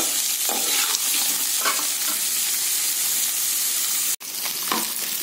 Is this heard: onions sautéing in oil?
yes